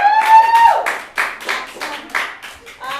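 A small group claps and cheers briefly, scattered hand claps with a whoop near the start, fading into sparse claps.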